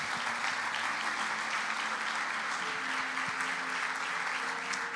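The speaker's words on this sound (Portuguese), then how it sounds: "Pode aplaudir Jesus" A church congregation applauds during a sermon, dense, sustained clapping from many hands that stays even and unbroken from start to finish.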